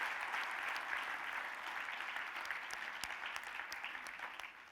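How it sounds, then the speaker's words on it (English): Sustained applause from a conference keynote audience at Disrupt Asia 2017, thanking the event organizers. It is a dense, steady wash of clapping that holds at an even level throughout, slowly thinning toward the end. "can we just give a big, big round of applause to ICTA and everyone who organized this event?"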